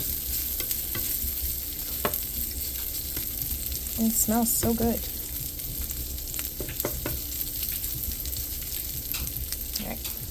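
Meat sizzles in a pan, cooked down burnt-ends style, with a steady close crackle and occasional stirring clicks while a person speaks briefly over it.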